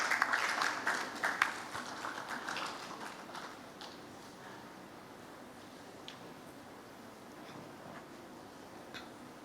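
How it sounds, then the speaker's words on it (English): Applause at an annual general assembly session, a burst of clapping that starts fairly strong and fades over a few seconds into scattered faint claps in a quiet hall. "Give them a big clap for the work they do."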